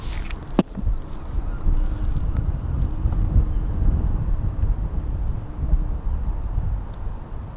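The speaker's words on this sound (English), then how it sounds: "It's really windy, man." Steady low rumble of wind buffeting a drone's microphone throughout, loud and continuous with no talking, high above Harrow & Wealdstone, London.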